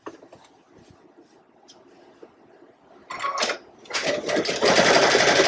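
A sewing machine stitches a fabric trivet: faint handling noises at first, then a loud, rapid mechanical chatter of short stitching bursts that builds into a steady run toward the end.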